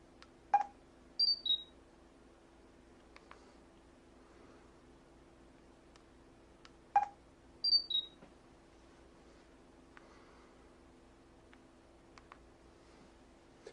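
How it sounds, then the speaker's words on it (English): A phone camera fires a distinctive shutter sound twice, about six seconds apart. Each one is a short click followed by a quick pair of high electronic chirps, with small clicks in between against a quiet hum. "Kind of a unique shutter sound there"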